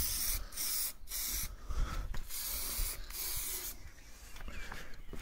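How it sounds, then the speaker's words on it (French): Hissing bursts of a spray paint can coating the fairings of a racing motorbike, close and steady with short pauses between passes, no speech. "comme j'ai qu'une bombe, je peux peindre à l'intérieur"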